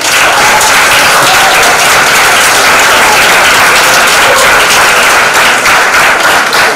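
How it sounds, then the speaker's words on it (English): Loud, sustained applause from a large crowd at a university alumni award ceremony, dense continuous clapping filling the whole stretch with no talk over it. "More hands of applause, please."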